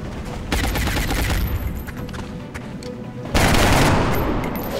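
Gunfire from the turn-based tactics video game XCOM Long War, a dense crackling fusillade with overlapping rapid shots that runs steadily throughout, swelling louder and harsher near the end.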